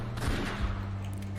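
A couple of quick muffled gunshot bursts from an enemy in the cover-based shooter video game West of Dead, fairly quiet over a low game hum.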